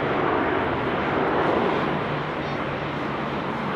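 Qantas airliner arriving at Sydney Airport, a steady broadband jet roar that stays loud and constant throughout, with faint voices in the background.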